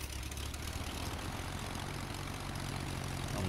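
A small propeller airplane's engine runs at a steady low throttle while taxiing on a little grass strip toward the runway, a continuous close drone filling the whole stretch with no talking.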